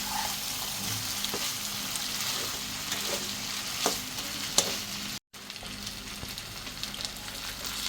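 Mutton braising and frying in a pan with garlic and fried potatoes, a continuous low crackling sizzle with occasional light stirring scrapes, briefly cut to silence midway, no speech.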